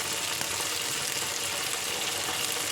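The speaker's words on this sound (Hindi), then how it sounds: "तो उसको थोड़ा सा मैं हाई फ्लेम पे ही रखा हुआ था, मैंने फटाफट उसको मैं फ्राई कर रही थी।" Food fries in a pan over a high flame, giving a steady, bright hiss and sizzle that stays loud and even throughout with no talk.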